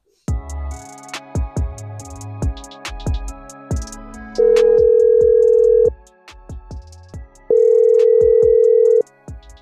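A telephone ringing with two long, steady electronic tones, each lasting about a second and a half and separated by a pause, loud and close over sharp thumping and music-like background sounds.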